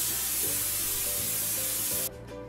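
Cooking spray hisses onto a waffle maker in one steady, close, continuous burst lasting about two seconds before cutting off, with no talking.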